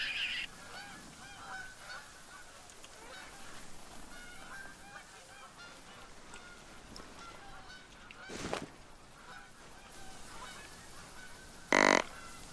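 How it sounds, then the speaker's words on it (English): Canada geese honking in the hunting game theHunter, set on the Hirschfelden map, a flock calling steadily at a distance with a couple of louder, nearer honks. "That is Canada gooses."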